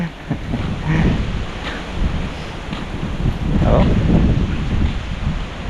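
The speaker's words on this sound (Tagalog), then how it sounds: "Lakas ng hangin." Strong wind roars and buffets the microphone in steady gusts, with a low rumble underneath and no clear voices.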